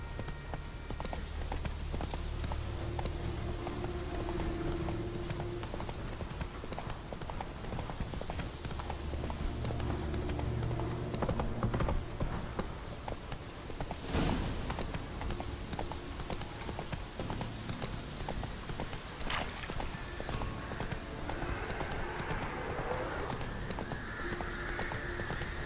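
Roach, a horse in the video game The Witcher 3, gallops with steady rapid hoof clip-clops over a continuous bed of game ambience, with a brief whinny, in the open world of The Witcher 3: The Wild Hunt.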